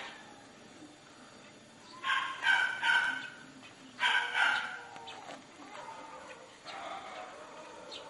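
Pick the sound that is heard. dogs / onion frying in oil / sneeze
dogs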